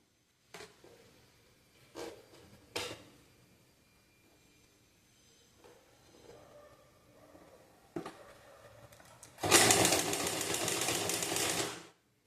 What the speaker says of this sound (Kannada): ಸೊ ಇದನ್ನು ನಾವು ಸ್ಟಿಚ್ ಮಾಡ್ಕೊಂಡು ಬರೋಣ.